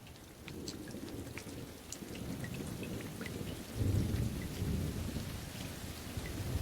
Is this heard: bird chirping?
no